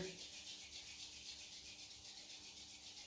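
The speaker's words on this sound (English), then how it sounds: "if we just stand and rub our hands together" Two hands rub together steadily as a qigong warm-up, giving a soft, continuous, even swishing friction that stays quiet and close throughout, with no talking.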